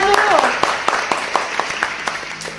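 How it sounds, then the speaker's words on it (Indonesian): An audience breaks into applause at a talk about teenage delinquency, a burst of individual hand claps that starts loud and thins out over a couple of seconds, with a voice briefly heard at the start. "Oke, tepuk tangan dulu."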